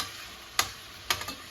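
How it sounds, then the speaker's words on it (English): Pork fat frying on low heat in a pan, a soft steady sizzle with a few distinct scrape-and-clack stirring strokes, quiet and close with no voices. "to fry it up a little bit, to get it kind of fried and toasty"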